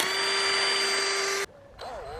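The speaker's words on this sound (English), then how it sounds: "We'll pre-drill a hole." A power drill pre-drills a hole in wood for a raised-bed border, a loud steady whine lasting over a second, then stopping, followed by a brief second burst as it spins up again.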